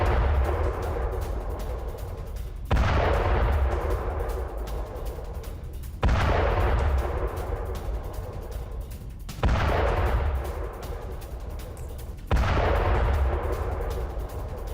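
Heavy explosions from drone strikes on fleeing Iranian soldiers boom out at regular intervals of about three seconds, each sharp blast trailing into a long rumbling decay, loud and distant-sounding with no voices.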